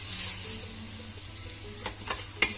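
A battered bread slice for a cheese sandwich toast roasts on a pan, with a soft, steady sizzle and a few sharp crackling pops toward the end.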